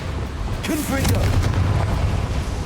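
A Confringo spell blast in the Hogwarts Legacy video game, a short booming burst with rumbling low energy and a brief rising whoosh, amid ongoing game noise.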